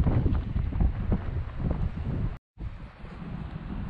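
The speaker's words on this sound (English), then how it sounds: "I'm so sorry about this wind." Steady buffeting wind rumbles on the microphone outdoors during metal detecting in a UK field, loud and continuous with a brief dropout near the end.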